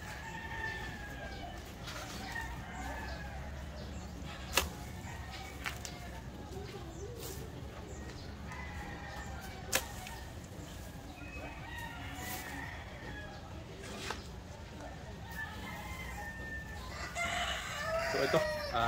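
On a farm where chopped leaves are being prepared as chicken feed, chickens cluck and roosters crow at moderate distance, with occasional sharp knocks and a person talking over the birds.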